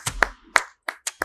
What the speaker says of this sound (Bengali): সবাই হাততালি হয়ে যাক।